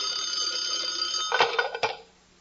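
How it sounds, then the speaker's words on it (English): An old-fashioned telephone bell in a 1940s radio comedy broadcast rings with a continuous metallic jangle, then a few clunks as it is picked up and cut off, leaving near silence. "Suddenly the phone rang."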